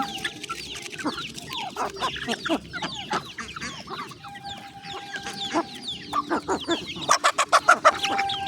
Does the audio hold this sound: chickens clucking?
yes